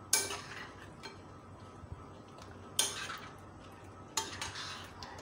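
Mutton chops being mixed with yogurt and spices, a spoon knocking against a metal pot in three sharp clinks spaced a few seconds apart, with soft scraping between them. No voices.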